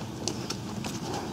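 Horse hooves trotting on a lunge circle during lungeing work, a few soft clip-clop footfalls spaced in a steady rhythm over a low background.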